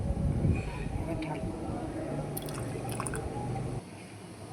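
A vinegar and water mixture is poured into a pot of milk to curdle it for making chhena, with soft liquid splashing and trickling up close, fairly quiet and steady before fading.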